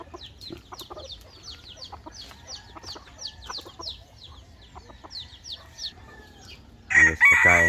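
Farmyard chickens being fed give repeated clucks and a rooster crows, steady and close, with a louder, busier burst of fowl calls in the last second.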